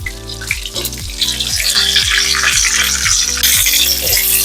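Fish frying in oil for a Kerala fish molly, a steady loud sizzle and bubbling crackle that runs unbroken from start to end with no voices.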